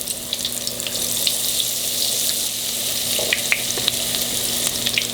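Hush puppies deep-frying in hot oil, a steady close sizzle and bubble with scattered sharp pops and crackles throughout, no talking.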